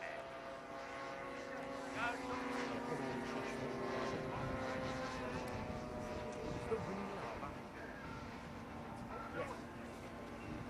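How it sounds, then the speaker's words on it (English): A 10-foot-wingspan B-25 model bomber on its landing approach at a model air show, its engine drone steady and moderately distant beneath a public-address commentator's voice. "Okay, on finals, the B-25."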